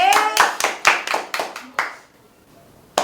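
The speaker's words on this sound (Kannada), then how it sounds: "ಚಪ್ಪಾಳೆ." A quick burst of about nine loud, crisp hand claps, close by, then a short quiet gap and one final clap.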